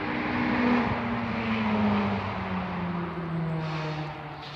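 A car passes nearby outdoors, its engine hum rising and then fading with a gradually falling pitch, with no talk over it.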